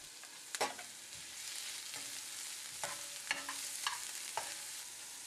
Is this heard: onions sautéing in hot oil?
yes